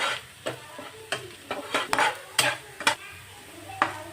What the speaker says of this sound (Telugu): ఆనియన్స్ని కొంచెం ఎర్రగా వచ్చే వరకు వేయించుకోవాలి